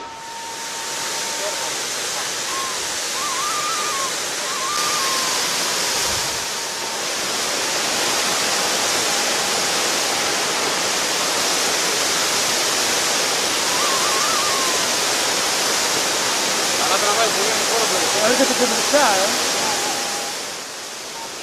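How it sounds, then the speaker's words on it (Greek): Two huge waterfalls in a mountain landscape roar as a steady, dense wash of rushing water that fills the whole scene and holds constant throughout, with faint birdsong above it. "Βγαίνοντας από το δάσος, αντικρίσαμε τους δύο τεράστιους καταράχτες του σκοτωμένου νερού."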